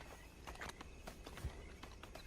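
Faint horse hooves in Red Dead Online clop in a quick, light rhythm at a low level.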